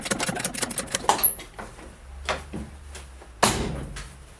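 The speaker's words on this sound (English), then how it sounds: "As you can see, the door still shuts nice." A cluster of clicks and rattles, then a sharp solid thump as the door of a rusty Triumph Stag V8 under restoration shuts firmly, close by.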